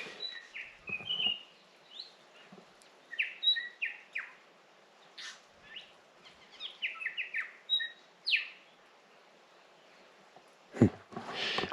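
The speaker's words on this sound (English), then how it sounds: "That bird that you can hear is called a bellbird." Bellbirds give clear, bright chiming calls in short bursts, scattered irregularly over a quiet background at a campsite. A few soft thuds and rustles sit close by.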